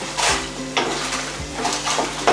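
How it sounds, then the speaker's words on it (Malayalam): Dried red chillies tossed into hot oil in a pan with shallots and garlic, giving soft sizzling hiss alongside a few sharp metallic spoon-on-pan clinks and stirring scrapes, close and moderately loud. "നമുക്കിതിലേക്ക് ഇനി വറ്റൽമുളക് ഇട്ട് കൊടുക്കാം"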